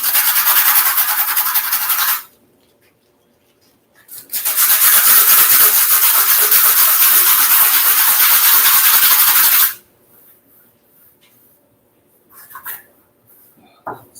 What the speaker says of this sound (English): So, go ahead and resand that there down some.